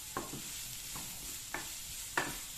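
Peppers and onions sautéing in a pan, a soft steady sizzle under four quiet spoon scrapes spaced at uneven intervals, close and gentle.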